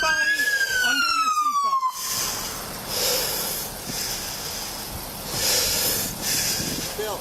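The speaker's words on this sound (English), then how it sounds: "Somebody shut off that siren." A police car siren sweeps downward loudly at first, then cuts off, leaving hissing and muffled roadside noise from the traffic stop.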